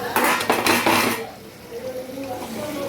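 Mutton being stirred and sautéed in a pot, a burst of metal spoon scraping and clinking against the pot for about a second, then a quieter simmering hiss with faint clatter, close by.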